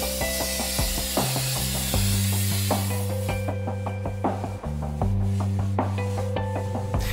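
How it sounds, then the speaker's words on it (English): Two brass clock frame plates are cut out together following a single template in a home machine shop, giving a continuous close rasping, rubbing sound with sustained tonal ringing and a few brief pauses in the strokes. "I'm cutting out both of them at the same time using the one template"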